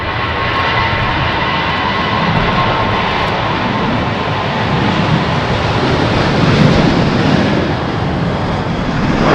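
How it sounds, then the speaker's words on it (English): An ITA Airways Airbus jet roars on its takeoff run from runway 36L at Amsterdam Schiphol, its loud, steady engine rumble filling the air with no talk over it. "ITA Airways Airbus, KLM Embraer, and another E2 Embraer from KLM by the looks of it"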